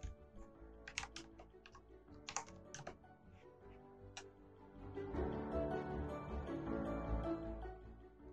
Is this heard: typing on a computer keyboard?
yes